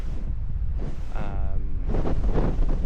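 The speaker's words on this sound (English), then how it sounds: "Oh, it's a bit windy" Steady, loud wind buffeting the microphone in Kalbarri National Park, a low rumbling roar throughout with brief faint voice-like tones partway through.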